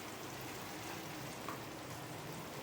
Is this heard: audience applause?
no